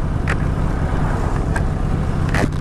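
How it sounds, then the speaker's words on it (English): A Harley-Davidson Sportster 1200 Custom motorcycle engine runs loud and close with a steady buzzing drone and a few sharp mechanical clicks; no one speaks. "It sounds very fruity as well. It's not a big throaty engine."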